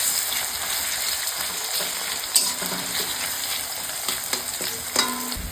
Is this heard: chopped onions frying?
yes